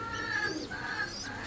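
A pair of healthy fancy pigeons with feathered legs coo softly and repeatedly, low throaty calls close by with faint higher bird chatter around them and no talking.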